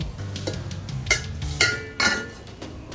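A spoon clinking and scraping against a pot while cooked chicken biryani rice with cardamom is mixed, several distinct metallic knocks roughly half a second apart over a low background hum, close and clear.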